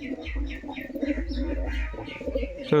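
A pigeon being held in the hand coos close up, with a string of soft repeated throaty coos and small chirps and a brief rustle at the very end.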